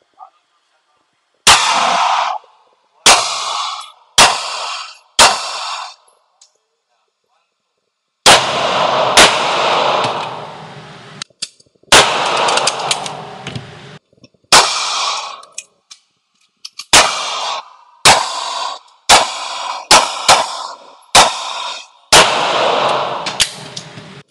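Taurus 9mm pistols, a G3 and a GX4, fired at a range: about a dozen sharp, loud shots spaced a second or two apart, with a pause midway and echoing tails after each report.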